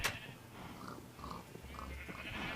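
A sheep in the Minecraft video game gives a few faint, nasal bleats in a quiet game setting, spaced across a couple of seconds with no talking.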